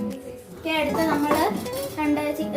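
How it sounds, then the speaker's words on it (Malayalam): A spoon scrapes and clinks against a pot while chicken curry, Kerala style, is stirred by a young cook, the metallic knocks coming close and irregular under a voice speaking throughout. "ചിക്കൻ ഇതുപോലെ ഇളക്കണം, നല്ലോണം ഇളക്കണം."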